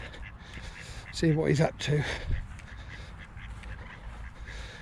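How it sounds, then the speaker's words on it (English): Canada geese by the River Thames give a short burst of loud, nasal honks in the middle, close by, with someone speaking briefly over the calls and quiet riverside ambience around them. "There's all the Canadian geese."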